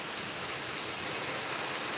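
Steady rain falling, a dense continuous wash of patter heard without any voices, even and unbroken throughout.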